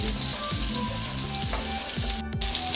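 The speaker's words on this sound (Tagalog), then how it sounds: "Nalagay ko na yung ating kamatis, sibuyas, tsaka bawang para maluto siya." Tomatoes, onion and garlic fry in a hot pan, giving a steady, close sizzle with a few stirring scrapes and clinks, and no talk over it.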